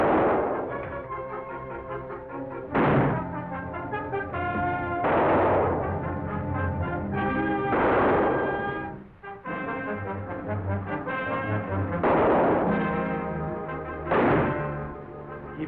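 Gunfire and explosive blasts in a war film battle scene, heavy booming shots landing in bursts every couple of seconds over a dense, loud, continuous din with an orchestral-like harmonic layer throughout.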